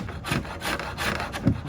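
Rhythmic rasping strokes of a file roughing and rounding a wooden workpiece, about five scraping passes in quick succession, close and clear with no talking.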